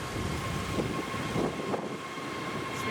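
Jet2 Airbus A321 at Manchester Airport, a steady broadband engine roar from the jet passing nearby, loud and continuous for a few seconds with no talk.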